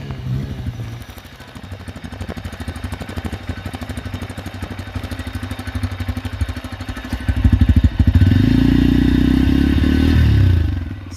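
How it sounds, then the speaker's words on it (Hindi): Bajaj Pulsar 125 motorcycle, 2026 model, idling with a steady, loud exhaust putter, then the engine is revved and holds a heavier drone near the end. "इंजन की बात करने से पहले इसका जो साउंड है वो सुना देता हूँ।"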